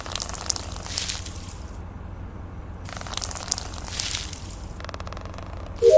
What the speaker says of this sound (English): now I have to water these plants